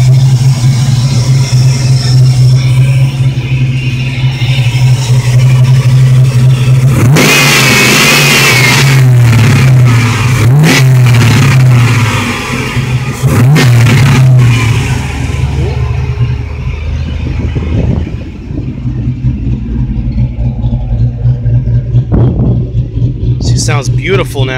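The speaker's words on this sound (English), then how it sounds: "She sounds beautiful now." A 1980 Chevy Malibu Wagon with a 6.0L engine idles loudly nearby, then revs hard several times with rising and falling bursts before settling back to a steady idle rumble.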